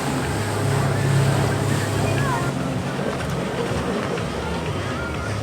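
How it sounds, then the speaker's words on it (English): Loud, continuous engine roar of jet skis racing at full throttle over water, with wind buffeting and splashing waves throughout. "there's two guys on jet skis that are absolutely flooring it"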